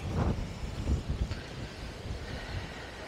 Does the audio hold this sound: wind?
yes